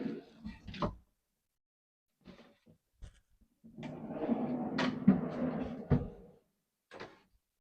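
A large drawer in a 2001 Chevy camper van slides along its drawer slides with a rumbling rolling noise and wooden knocks, ending in a couple of clunks as it opens and shuts, heard close and alone.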